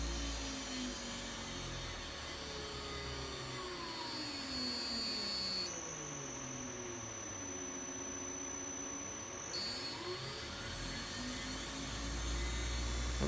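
An electric motor runs with no load at a speed set in hertz, giving a smooth, steady whine with faint tones that glide up and down, sustained throughout at an even level.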